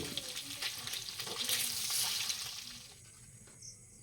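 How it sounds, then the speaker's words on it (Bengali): Eggs frying in oil in a village kitchen over a clay stove, a broad steady sizzle that swells mid-clip and then thins out toward the end. "ডিমগুলি যখন একটু লাল লাল করে ভাজা হবে তখন ডিমগুলিকে তুলে নেব।"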